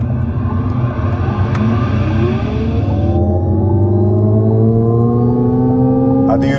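An Alpine A290 GTS hot hatch pulling away under launch control, its electric drive whine rising steadily in pitch over a constant road rumble, loud and close from inside the car.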